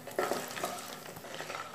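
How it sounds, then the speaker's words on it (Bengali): Lentil dumplings (bori) fry in oil in a wok, giving a close, moderately loud sizzle with a few stirring scrapes near the start, heard alone without talk. "এই তেলের মধ্যে এবার আমি বড়িটা ফার্স্টে দিয়ে দেব। বড়িটাকে দিয়ে বড়িটাকে আগে লাল করে ভেজে নেব।"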